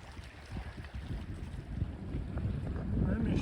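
Wind blows over a lake in the Woodland Caribou wilderness, a steady low rumbling gust against the microphone that swells slightly toward the end, with faint water movement beneath and no voices.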